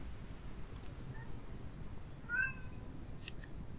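A cat meowing softly while feeding and caring for her kittens, a faint short chirp followed by one clearer mid-length meow over low background noise, no talk.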